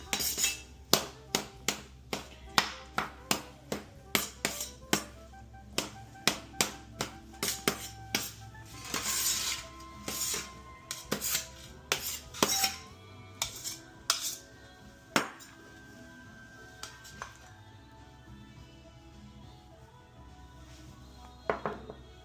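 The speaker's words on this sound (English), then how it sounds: "So I'm gonna finish cutting these olives" A knife chops olives for an olive and Gruyère loaf, striking the cutting board in a steady run of sharp, close taps that later turn sparser and more irregular, with occasional clinks and no talking.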